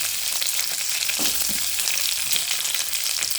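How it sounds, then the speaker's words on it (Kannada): Chopped onions fry in hot oil at medium heat for a rice-and-puffed-rice usali, a loud, close, steady sizzle with faint crackles and no voices. "ಆನಂತರ ಹೆಚ್ಕೊಂಡಿರೋಂಥ ಈರುಳ್ಳಿ ಹಾಕೋದು"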